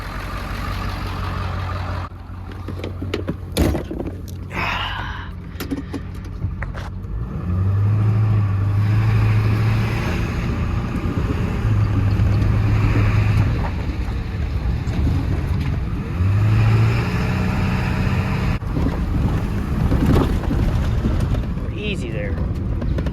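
Stock 2001 Ford F250 Super Duty with a 7.3 Powerstroke diesel accelerating uphill from a stop, a steady loud engine drone and rising tone inside the cab with wind rush throughout.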